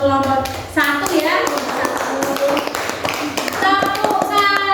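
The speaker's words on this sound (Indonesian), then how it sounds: "Tepuk tangan untuk kelompok 1 ya." Primary schoolchildren in a classroom clap together for a presenting group, bursts of brisk hand claps mixed with children's voices and chatter throughout.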